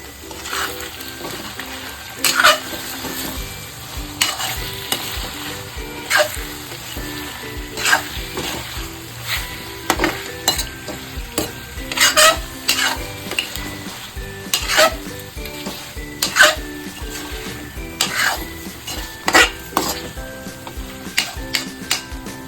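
Andhra-style gongura chicken curry fries in a pan with a steady close sizzle, broken by sharp, repeated scrapes and clinks of a spoon against the metal every second or two.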